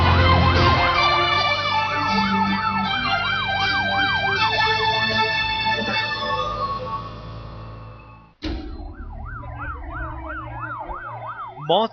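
An ambulance siren wails loudly and continuously, its rising-and-falling tone repeating over road traffic noise, with a brief cutoff before the siren resumes.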